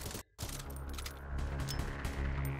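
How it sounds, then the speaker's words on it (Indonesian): Rapid gunfire in the mobile shooter City of Outlaws, a dense, continuous burst of shots with metallic clatter that runs nearly the whole moment after a brief gap. "Oke, kita tembak kepalanya."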